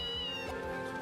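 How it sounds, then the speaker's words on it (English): A single drawn-out cat meow, tonal and clear, rising slightly in the middle, heard close up and fairly quiet inside a video game. "Cat."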